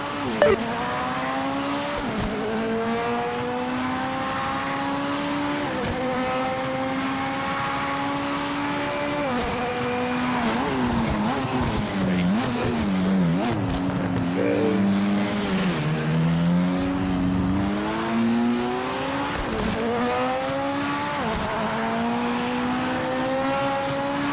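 Racing cars in the video game Project Motor Racing drone loudly and continuously, engine pitch rising and falling through gear changes, with brief tire squeal during a sustained run of laps.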